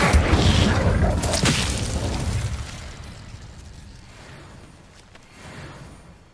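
An Incendio fire spell cast in the video game Hogwarts Legacy gives a loud, roaring, fiery burst that fades over several seconds into a softer rumble.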